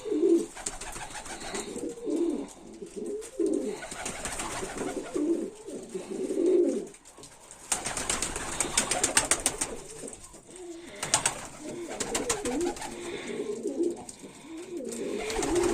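Domestic pigeons coo in a pigeon loft, with repeated low rolling coos from several birds close by, some overlapping. Rustling and wing flutters break in now and then, and there is no talk.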